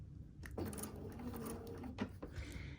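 Sewing machine back stitching a quilt seam, a quiet close whir of rapid stitching with a couple of sharp mechanical clicks as it changes direction.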